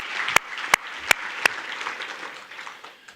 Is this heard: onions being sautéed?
no